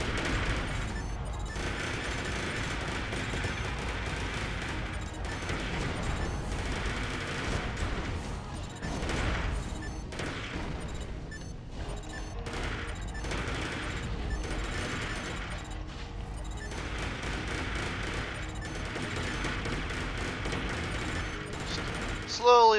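Sustained machine gun fire from a mech in the Armored Core 4 video game, a continuous dense stream of rapid shots with game effects underneath, steady and loud across the whole stretch.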